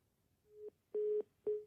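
Telephone tones after a call is cut off: three short steady beeps, the middle one longest, sounding alone and fairly faint with a brief gap between each.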